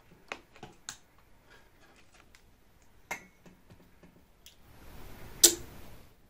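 A relay switch clicks as a 5 V adapter is touched to its terminals during a bench test, giving a handful of short, dry, close ticks scattered over quiet room tone, with the sharpest snap near the end.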